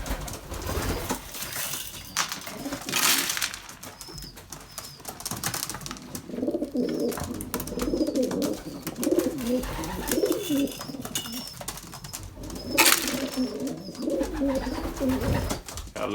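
Pigeons coo steadily throughout a breeding loft, with layered overlapping calls, occasional wing flaps and a few sharp bangs, fairly close and moderately loud.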